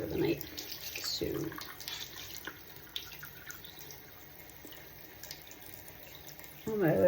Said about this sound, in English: washing all the goo off because I just don't like it